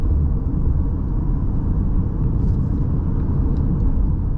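A 2021 Ford SUV engine under light throttle, a steady low rumble and drone heard from inside the cabin with constant road noise and no talking.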